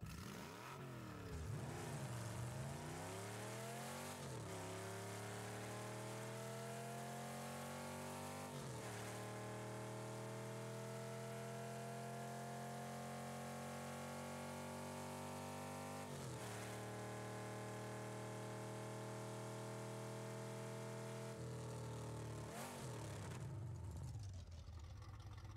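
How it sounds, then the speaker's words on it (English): A Batmobile engine in a video game revs up repeatedly in long rising pulls, dropping back between shifts, loud and continuous with no talking, fading out at the end. "here is the engine sound."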